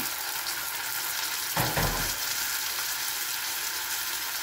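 Marinated chicken frying in a pan, a dense steady sizzle throughout with a louder burst partway through as more goes into the hot oil, close and alone without talk.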